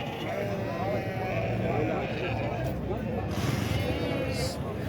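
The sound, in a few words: black goat bleating at livestock market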